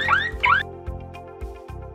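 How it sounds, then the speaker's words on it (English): Siren alarm from a Toucan Wireless Video Doorbell V3: two rising electronic whoops, then a loud, steady pulsing electronic wail with a buzzy low drone, played alone without any voices. "Use the siren alarm and call 911 features to scare intruders away and get help quickly"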